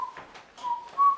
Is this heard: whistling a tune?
yes